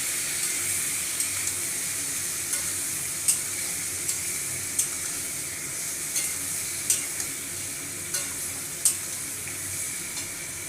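500 grams of stingray pieces sizzle steadily in a pan for a Bengali fish curry with potato, with a continuous hiss broken by regular light clinks of stirring, and no talking.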